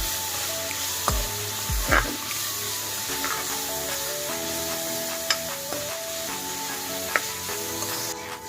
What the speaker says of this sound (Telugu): అది ఫ్రై అవుతున్నాయండి.